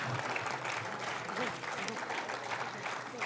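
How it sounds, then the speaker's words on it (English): Audience at a cultural stage production applauding its volunteers, a sustained, even wash of clapping from a large hall crowd, fairly faint and steady throughout. "A huge round of applause again to all the volunteers who helped through the making of this"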